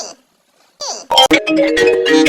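A cartoon phone rings with a loud, repeating melodic tone that starts after a short exchange of voices and continues steadily.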